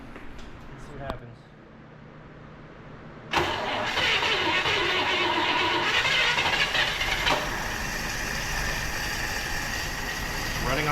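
A 1958 Chevrolet Bel Air engine, long abandoned and fed straight through the carburetor, cranks briefly, then catches and roars into a loud, steady, close run that continues to the end.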